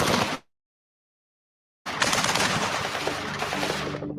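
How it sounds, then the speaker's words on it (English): Rapid automatic gunfire from a police shootout with heavily armed suspects: a loud burst cuts off into silence, then a sustained stretch of dense, close firing resumes. "They exchange more fire."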